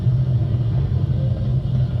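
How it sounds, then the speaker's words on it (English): Falcon 9 rocket carrying a crewed Dragon capsule climbs during launch, giving a steady, loud, continuous low engine rumble with no pauses and no voices. "Flying crew on board Dragon and Falcon 9, and look at them go."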